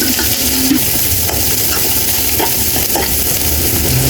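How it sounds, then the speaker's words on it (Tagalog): Pork rib meat sizzles steadily as it is sautéed and stirred in a hot pan for kaldereta, a dense continuous frying hiss with occasional scraping stir strokes, close and loud. "Yung karne naman ang ating gigisahan."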